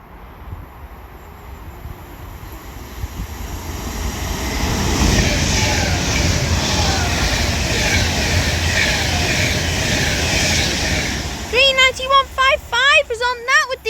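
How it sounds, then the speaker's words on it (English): An Avanti West Coast Class 390 Pendolino electric train passes through a station on the West Coast Main Line at Longport. A rushing roar swells and holds loud for several seconds before a person begins talking near the end. "Now passing through is going to be another Avanti West Coast Class 390 Pendolino."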